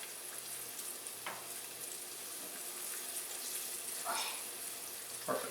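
Pieces of General Tso's chicken sizzle steadily in hot oil in a pan, with a few sharp bursts and scrapes as pieces are turned over, no talking.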